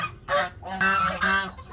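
A hungry ruddy shelduck in an outdoor bird setup gives three loud, nasal, goose-like honking calls in close succession, each about a third of a second long, near and clear with no talk.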